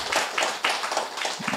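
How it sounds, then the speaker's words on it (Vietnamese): An audience at a Buddhist dharma talk gives a short round of applause, uneven close clapping for under two seconds. "cho anh tràng pháo tay trước"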